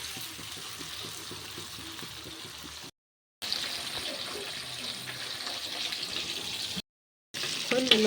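Fish being washed under a running tap makes a steady, soft splashing hiss of water, with a couple of brief gaps and some light handling noise near the end.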